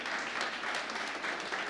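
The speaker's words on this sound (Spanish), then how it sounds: "Dale un fuerte aplauso." Church congregation applauding during a Sunday service, a continuous dense patter of many hands clapping at steady volume, fairly close and with no talking over it.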